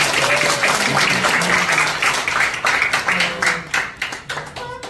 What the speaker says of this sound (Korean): 그래서 멋지게 더 큰 직급으로 도전하시라고 뜨거운 박수 부탁드립니다